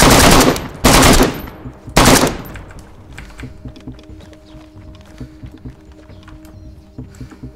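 A Winchester rifle in DayZ fires three loud, close shots about a second apart, each with a short tail. Quieter clicks and faint handling noises follow.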